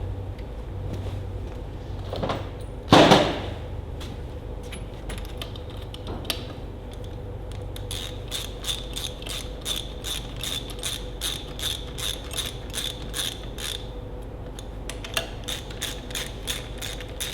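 A socket ratchet clicks in quick, even runs while snugging the cylinder head nuts on a Ferguson TEA20 tractor, the dry metallic ticks close and steady after a single louder clunk early on.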